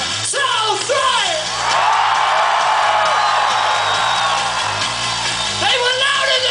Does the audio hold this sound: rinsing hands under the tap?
no